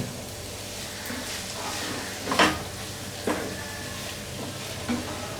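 Loitta shutki (dried Bombay duck fish) curry with potatoes being stirred in a pan to dry the gravy, a low simmering sizzle broken by a few distinct spoon scrapes and knocks.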